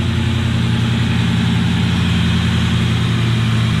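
The 4.6 liter 2-valve V8 of a 2004 Ford Mustang GT idles steadily up close, a loud, even low rumble with a constant pulsing throb and no talking.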